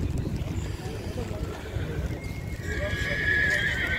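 Horses at the Karabulak horse market whinny loudly near the end, after a stretch of hoof clatter, crowd murmur and people talking throughout.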